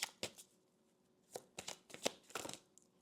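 Oracle cards being shuffled by hand in a quiet room, a series of soft, quick riffling flicks and taps coming in short irregular clusters, with no talking.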